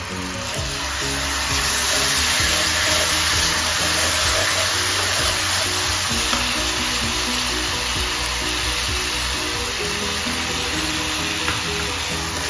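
Sauce sizzling loudly and steadily in a hot pan while a Thai stir-fry such as pad krapow gai is cooked, a dense, continuous frying hiss with no voices.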